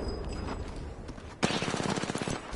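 Rapid automatic gunfire from a PS4 video game rattles in a steady stream of close shots, getting louder and denser halfway through, alone with no speech over it.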